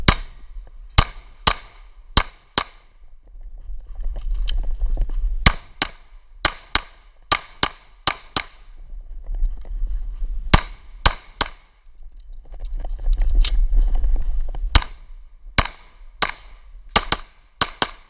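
Pistol shots ring out at a USPSA Carry Optics shooting competition in New Jersey, roughly two dozen sharp cracks in quick strings and pairs with short pauses between, loud and close, with outdoor background noise underneath.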